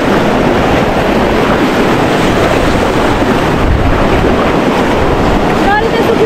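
Strong typhoon wind roars without pause, buffeting the microphone in a loud, steady rush, with a wash like surf or water underneath.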